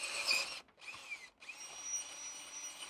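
Power drill boring a hole through a planter bin, a close, steady high whine with two short pauses mid-cut before resuming and running on to the end.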